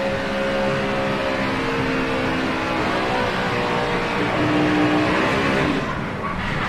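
A NASCAR Cup Series stock car engine roars steadily at high revs on throttle, heard on board, loud and close with a droning harmonic whine.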